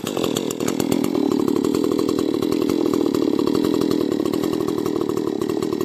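A chainsaw cutting a big tree for firewood outdoors, running loud and steady at high revs with a rough, buzzing engine tone and no pauses, heard close up with no talking.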